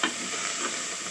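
Coriander leaves fry in a pan while being stirred, a brief close sizzle with scraping stir motion lasting about a second; no voices.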